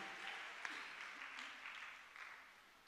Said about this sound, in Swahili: mpigie Bwana makofi mengi, mengi ya shangwe